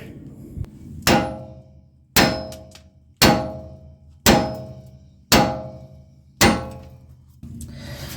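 Seven heavy metallic hammer blows on an axle nut of a Mazda RX-7 FD3S ring out, about one per second, each a sharp clang that decays quickly before the next strike.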